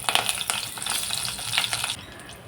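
Curry leaves crackle in hot oil already tempered with cumin, mustard seeds and crushed garlic, a close, dense sizzle with sharp pops and spits that cuts off abruptly near the end.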